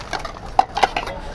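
Plastic plates and cups being handled on a store shelf, giving a few light, close clatters and taps with two sharper knocks in the middle, over quiet background noise and no talk.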